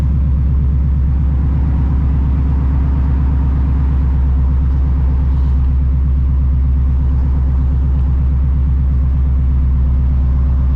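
A Shelby GT350's engine rumbles steadily and loudly from inside the car during a drive in traffic, a deep continuous throb with no speech.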